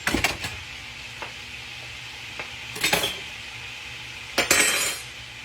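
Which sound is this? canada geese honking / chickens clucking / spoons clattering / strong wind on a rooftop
spoons clattering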